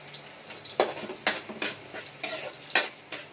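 Garlic and onion being sautéed for savory pancit canton: a soft background sizzle with a series of sharp utensil clinks and scrapes against the pan at an irregular pace, close by and fairly quiet.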